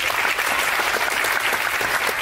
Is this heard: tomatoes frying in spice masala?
no